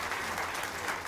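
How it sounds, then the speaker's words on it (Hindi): A crowd at a groundbreaking ceremony applauds loudly in a dense, continuous burst of clapping that lasts about a second. "आप जोरदार तालियां बजाकर उनका स्वागत करिए।"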